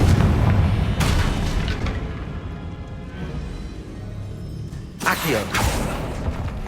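A Confringo spell explosion in the video game Hogwarts Legacy bursts as a heavy boom at the start, followed by a second sharp blast a few seconds later over a low game ambience.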